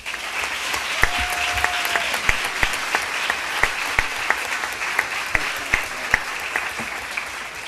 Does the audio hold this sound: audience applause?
yes